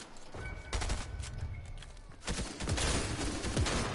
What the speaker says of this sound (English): How do I miss every single one of those shots?